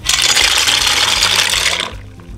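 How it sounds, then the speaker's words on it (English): Dry macaroni poured into a pot of boiling water, a loud close rush and hiss of tumbling pasta and bubbling water lasting about two seconds before cutting off. "and now I'm going to add the pasta"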